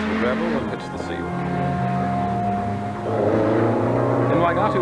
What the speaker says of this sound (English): Jim Donald's turbocharged car leaves the gravel and hits the seal.